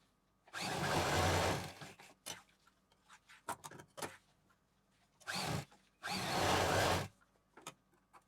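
A sewing machine stitches zipper fabric for a DIY organiser in short bursts, two long runs and several brief ones, with quiet handling sounds between.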